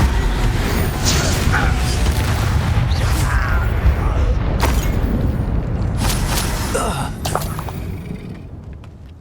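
Spell explosions in Hogwarts Legacy: repeated bursts and booms over a dense rumbling backdrop, with sharp magical cracks and whooshes, fading toward the end while a voice calls out.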